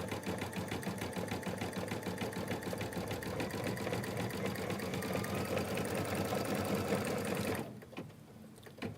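A Kimberbell embroidery sewing machine stitches a quilt block, a loud, steady high-speed needle chatter and motor whir running evenly for most of the stretch, then stopping abruptly near the end into quiet room tone.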